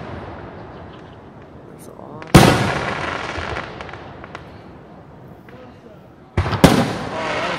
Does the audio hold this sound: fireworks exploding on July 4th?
yes